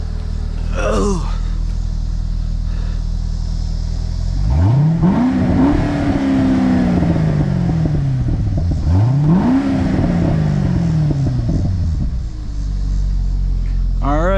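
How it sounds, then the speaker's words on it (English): A C6 Corvette engine idles with a deep rumble, then revs twice in rising and falling sweeps, loud and close, with brief voices around the revs. "Go ahead and rev this bad boy up too."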